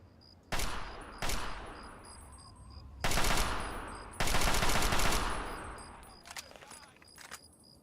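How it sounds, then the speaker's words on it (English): Pistol shots in a first-person shooter video game, several sharp loud bursts spread unevenly across the stretch, with a couple of longer sustained blasts and fainter clicks near the end. "I probably headshot this guy with the pistol."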